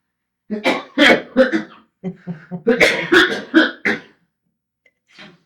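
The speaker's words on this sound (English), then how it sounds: "So my cameraman is coughing back here. Go ahead and cough." A man coughs and clears his throat in a burst of rough, close hacks, a short pause, then more coughing and a faint final cough.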